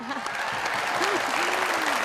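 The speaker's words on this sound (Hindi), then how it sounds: "बहुत सारी तालियां ज़ैनब के लिए एवरीवन" A Pakistani TV studio audience applauds a sports broadcaster host, a dense, even round of clapping with voices faintly audible beneath.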